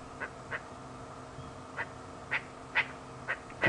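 Several short, harsh calls of a lilac-breasted roller ring out one at a time at uneven intervals, fairly close and loud against a quiet, faintly hissing background.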